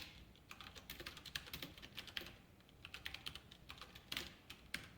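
Code is typed on a computer keyboard during a React lesson, a quick, steady patter of key clicks with occasional harder strokes, close but fairly quiet, with no voice over it.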